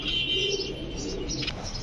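Golden pigeons cooing softly in a cage among other pigeons, a few low, brief coos with faint chirps behind them, quiet and close.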